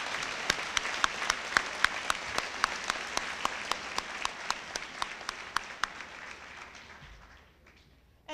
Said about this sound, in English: a round of applause for our Rossi band